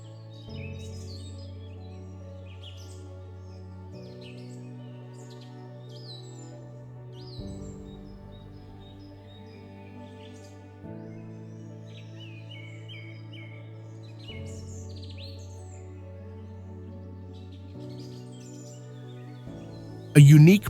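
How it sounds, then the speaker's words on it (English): Birds chirping and singing by a lake in Slovenia, scattered light high calls throughout, set beneath steady music. "birdsong blends with the gentle splash of paddles."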